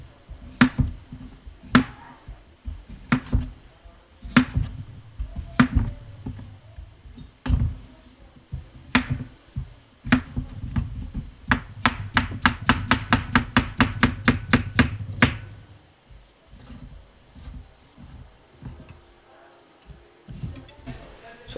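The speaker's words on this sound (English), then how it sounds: "So I'm just going to finish up slicing my cucumbers." A kitchen knife slices cucumbers into half moons on a cutting board, with steady close chopping that speeds into a rapid even burst of cuts, then slows and stops.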